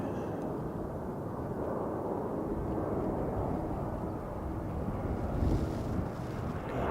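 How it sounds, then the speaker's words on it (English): Steady, heavy wind rumbles into the microphone, a dense low roar that barely lets up, with a faint engine-like hum beneath. "So windy today."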